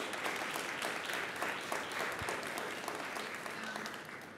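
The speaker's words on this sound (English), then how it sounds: "Round of applause for everybody." A large audience at a Juneteenth town hall and celebration gives a sustained, dense round of applause that stays even and fairly soft throughout, with no talking over it.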